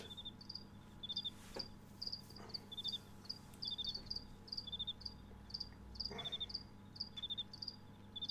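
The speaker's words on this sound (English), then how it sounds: "how the crickets are chirping" Crickets chirping in the video game Temple of Elemental Evil, a steady rhythmic run of bright, evenly spaced chirps over a quiet low hum, with a couple of soft thuds in between.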